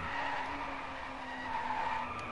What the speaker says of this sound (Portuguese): Esse carro derrapa muito.